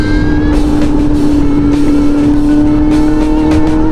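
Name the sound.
Ducati Monster 937 motorcycle engine braking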